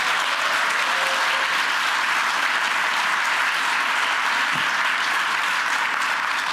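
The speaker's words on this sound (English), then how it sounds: "please give her an applause" Audience applause at a corporate ceremony marking a tax advisory firm's NYSE listing, a steady dense roar of clapping from a large crowd lasting throughout without a break.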